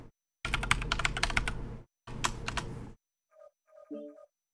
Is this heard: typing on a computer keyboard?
yes